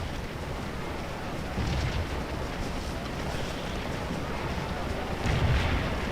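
Continuous rumbling battle noise from the Scourge of War video game as troops fire on retreating enemies, a dense roar of distant massed musketry with swells of heavier fire, no talk.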